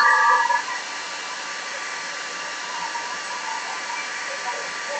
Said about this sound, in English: Get your big person to blow dry the black parts again.